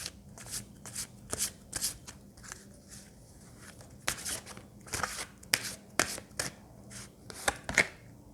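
A deck of angel cards being shuffled up close, with repeated crisp riffling bursts and soft slaps in irregular runs, alone with no talk.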